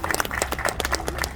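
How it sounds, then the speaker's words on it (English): Audience applause at a Baltimore civic event celebrating federal funding with local officials, a short burst of many hands clapping, dense and fairly close, with no talk over it. "Oh yeah, we can clap for them."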